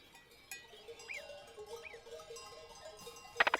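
A herd of goats in the Alps in summer, with faint scattered bleats, a distant bell clanking softly and a sharper bell jangle near the end, all quiet and sparse.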